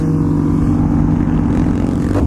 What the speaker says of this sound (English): We literally got a chopper on us.